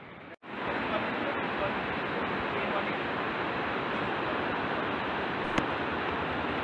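Beside a landslide-hit mountain road on the Kailash Mansarovar Yatra route, a waterfall gives a loud, unbroken roar that holds steady for several seconds. A faint knock comes early on.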